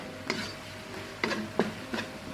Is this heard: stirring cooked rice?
yes